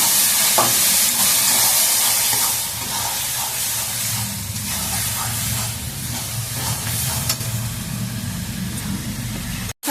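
Steady loud sizzling and hissing of meat being stir-fried in a pan, with occasional scraping stirs, continuous throughout before cutting off abruptly at the end.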